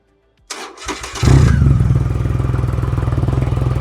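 A Triumph Rocket 3 motorcycle cranks with a brief whirring starter, catches and fires into a loud, close, throbbing idle with a steady rhythmic pulse that holds to the end.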